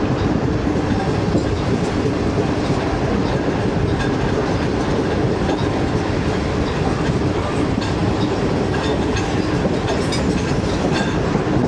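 Badar Express passenger train led by locomotive ZCU20 6422 rolls along, heard from on board as a loud continuous rumble with steady clickety-clack of wheels over rail joints and no talk.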